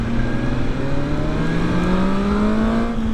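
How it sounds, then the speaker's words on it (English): A 2020 BMW S1000XR motorcycle engine revs steadily and loudly up close, its rising harmonic whine climbing in pitch through the gear as it builds toward the power band, with no voices. "Once you get the revs up and the engine comes alive, it's nice."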